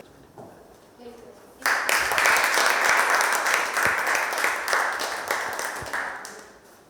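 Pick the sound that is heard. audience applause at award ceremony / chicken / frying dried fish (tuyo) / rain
audience applause at award ceremony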